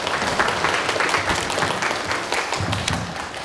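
An audience at a Korean Buddhist dharma talk gives a big round of applause, a dense, close wash of clapping with a few thumping claps, steady and unbroken with no talk.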